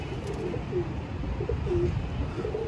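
Pigeons coo in soft repeated low calls over a steady background murmur, several short coos spaced across the stretch at moderate distance.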